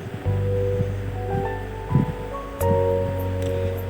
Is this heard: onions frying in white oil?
yes